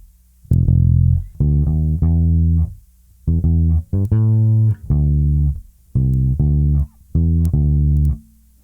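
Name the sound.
bass guitar playing a song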